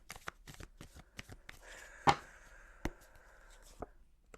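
Tarot cards riffle and slap in a quick series of crisp shuffling flicks, then a few sharper snaps as cards are pulled and laid down, close and fairly quiet with no talking.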